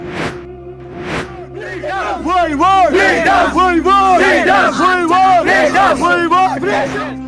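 A large protest crowd in Kashmir chants slogans in loud, rhythmic unison, voices rising and falling together in repeated shouted phrases.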